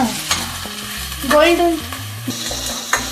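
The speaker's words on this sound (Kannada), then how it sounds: "ಗೋಲ್ಡನ್ ಫ್ರೈ ಆಗೋವರೆಗೂ ಆನಿಯನ್ನ ನೀವು ಫ್ರೈ ಮಾಡ್ಕೋಬೇಕು." Onions frying in a pan over low heat for a chicken curry, a steady close sizzle with stirring scrapes and clinks on top, continuing alone without any talk.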